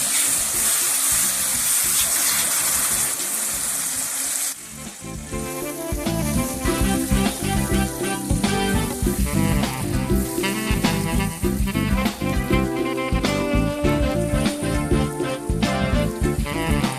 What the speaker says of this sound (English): Going to add some water.